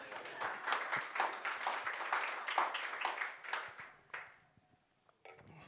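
Conference audience applauding, a burst of close, sharp clapping from a modest crowd that swells, then thins out and fades to near silence after about four seconds.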